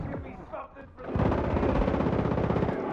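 Rapid automatic gunfire bursts in Far Cry 5 co-op play, loud and sustained after a brief lull, with players talking over the shooting.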